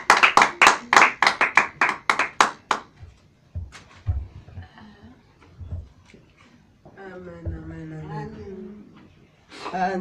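A church congregation claps in acclamation, a run of loud rhythmic hand claps up close that fades out after a few seconds, followed by voices talking and singing.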